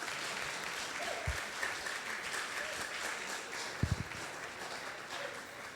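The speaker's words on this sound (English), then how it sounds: "The people are clapping for you." An audience clapping for Anne, a dense, fairly loud wash of applause that continues throughout, with a couple of brief thumps near the end.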